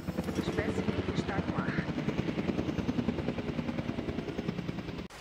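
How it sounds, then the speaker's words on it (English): Steady rhythmic rotor chopping of a crane helicopter in the video game Jurassic World Evolution 2, loud and continuous throughout, with a low droning engine beneath. "a larger dinosaur, like the Carcharodontosaurus, will be picked by a crane helicopter"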